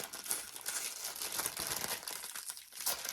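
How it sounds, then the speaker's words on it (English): Continuous crinkling of a plastic bag, close and fairly loud, with dense rustling handling noise throughout and no talking. "you were crinkling that bag"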